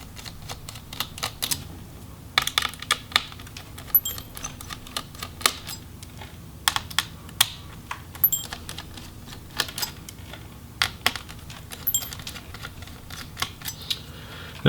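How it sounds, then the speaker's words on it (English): Small screws being removed from the heatsink of an MSI GE62VR Apache Pro laptop, a close series of sharp, irregular clicks and taps from a screwdriver and parts over a quiet background, no voices. "we can also now get the screws for the heatsink"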